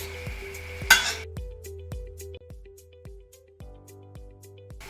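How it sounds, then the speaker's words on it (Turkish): Apple pieces sautéed in a pan of caramelized sugar, with steady rhythmic stirring scrapes over a soft sizzle and a brief louder burst of hiss near the start. "Elmalarımızın rengi dönene kadar kavuruyoruz."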